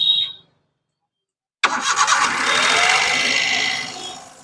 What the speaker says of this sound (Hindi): फिल्टर बॉडी यदि खुल चुकी है तो गाड़ी को स्टार्ट करते हैं